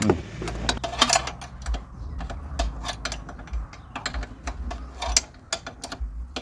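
Rapid metallic ratcheting clicks from a wrench tightening a bolt while a Yamaha Fino scooter's shock absorber is replaced, a steady close run of clicks at a moderate level.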